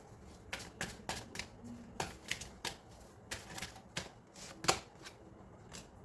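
Tarot cards are shuffled and drawn from a deck, producing a series of quiet, close, crisp snaps and riffles at an irregular pace, with one sharper slap near the end.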